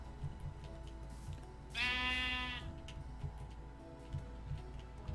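A single sheep bleats once in the video game Minecraft, a clear wavering bleat in the middle of the clip over soft ambient game sounds and light ticking.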